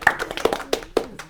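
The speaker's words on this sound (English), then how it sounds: "Feel free to applaud her." A few people clap at a small roundtable on Portland housing and rent, sparse and close, with four or five distinct claps spread unevenly across a second and no other sound.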